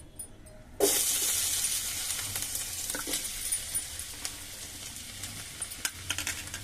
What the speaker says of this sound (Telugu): ఇందులో ఇప్పుడు కాకరకాయలు వేసేస్తున్నాను.